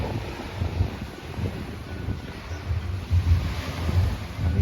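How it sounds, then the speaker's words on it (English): Waves wash onto a beach in Greece in a steady low rumble, close by and mixed with gusts of wind against the microphone. "we've come to this lovely beach"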